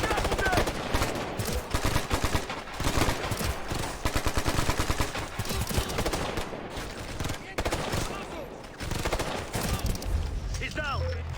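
Gunfire in the military shooter Ghost Recon Future Soldier, with dense bursts of automatic weapons and single shots going off close and loud in rapid succession, mixed under intermittent voices.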